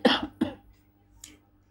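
A person coughs twice in quick succession, close and fairly loud, followed by a softer throat-clearing sound a moment later; no speech.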